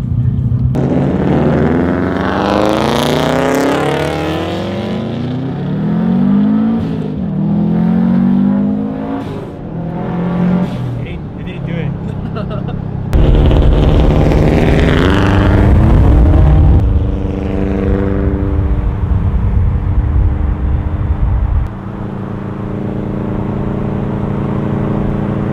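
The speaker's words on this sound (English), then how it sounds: "Let's see if we can hear the axle right now." A Subaru car being driven while listening for axle noise, with a loud engine that rises and falls as it revs and accelerates, heard from inside and close, shifting through gears with no talking.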